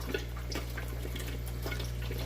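Water pours continuously into a fish fry grow-out tank, a steady close splashing trickle over a constant low hum of pump or equipment, with no voices.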